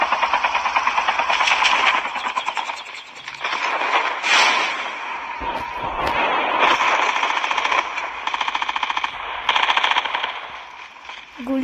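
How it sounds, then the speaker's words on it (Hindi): Rapid bursts of Call of Duty battle royale gunfire rattle off repeatedly, loud and close, with short pauses between automatic volleys. "गोली चली, गोली चली, गोली चली।"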